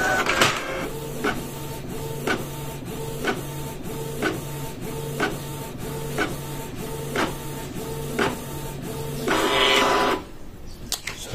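A Canon printer prints a test page after an ink refill, with a regular run of mechanical clicks and whirring carriage passes about once a second, then a louder feed-and-eject burst at the end, and no talking.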